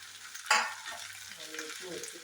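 Chopped green beans for payar thoran drop into hot oil tempered with mustard seeds, setting off a sudden loud sizzle that settles into a softer, steady frying hiss with light stirring, close and alone.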